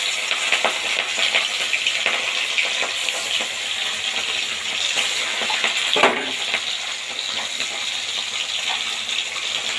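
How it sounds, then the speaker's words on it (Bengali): Pieces of fish rubbed with salt and turmeric fry in hot oil, giving a steady, close crackling sizzle that runs throughout with a brief louder spatter and no talk. "তেলটা খুব ভালোভাবে গরম হয়ে গেছে, এবার নুন হলুদ মেখে রাখা মাছগুলো ভেজে নেব"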